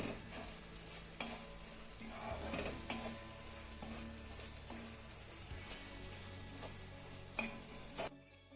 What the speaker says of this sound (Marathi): एकदा ही मिरची तळापासून आपल्याला चांगली हलवून घ्यायची आहे